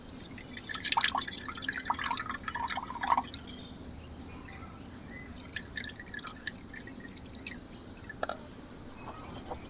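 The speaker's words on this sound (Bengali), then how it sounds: "সাবুর দানাতে যে জলটা আছে সেটা আমি বের করিয়ে দেব।" Soaked sago pearls squeezed by hand, water dripping and squishing out in a close burst of wet drips and pattering during the first few seconds, then only sparse faint drips against quiet.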